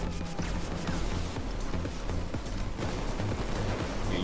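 Gunfire in a Payday 2 heist, sustained rapid automatic shooting with overlapping bursts and some heavier impacts, steady and moderately loud throughout.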